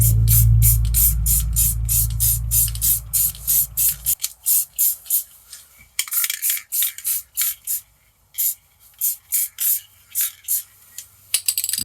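Rust-Oleum metallic copper spray paint hisses from a can in short rhythmic bursts over steady low hum at first, then alone in the cold, about a dozen close spurts with brief gaps.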